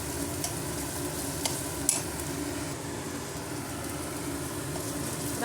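Chopped ridge gourd cooking in hot oil with ginger-garlic paste for a potato curry, a steady close sizzle with a few faint clicks from stirring and no talk.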